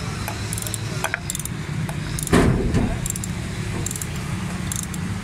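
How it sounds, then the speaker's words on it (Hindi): Spark plugs being tightened on a Toyota Corolla engine give off rapid metallic clinks and ratchet clicks in short bursts, with a thud and a brief rustle in the middle and a voice talking faintly now and then. "इसके प्लग टाइट कर रहे हैं"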